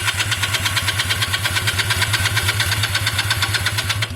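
A Honda CB250 motorcycle engine being cranked with the electric starter, a steady rapid mechanical churning rhythm with even pulses, heard close and loud on its own without talk.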